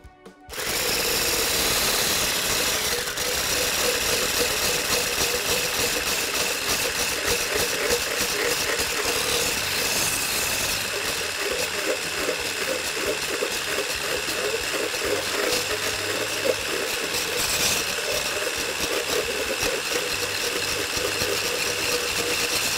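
Electric mixer whirring steadily as it beats a cream cheese filling for a cookies and cream cheesecake, a loud, continuous mechanical drone with rattling texture running the whole time without talk.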